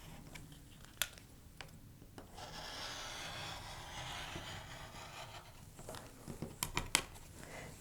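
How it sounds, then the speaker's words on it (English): A curved slot being cut for a curve-making tutorial: a steady rasping, scraping cut runs for several seconds at close range, framed by a few sharp clicks and taps before and after, with no talking. "And I'm going to cut in my curved slot."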